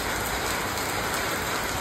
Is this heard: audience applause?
no